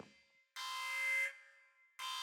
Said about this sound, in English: Oh, the alarm's going off.